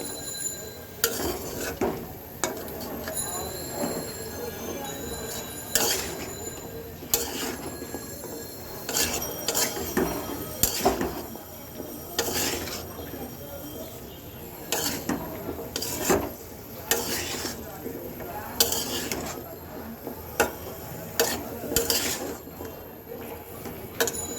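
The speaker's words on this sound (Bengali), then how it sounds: "দেখো সব কিছু একসাথে সুন্দর করে মিক্সড করে দিলাম" Mixed vegetables being stirred in a cooking pan for a vegetable ghyat, with repeated scraping taps and clatter in an uneven rhythm, close by, and a voice talking at times.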